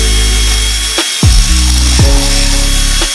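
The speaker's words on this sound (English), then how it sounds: "So what I'm thinking is we just drill it out" A power tool whirs at a steady pitch, stopping and restarting several times in short bursts, close by with no talking.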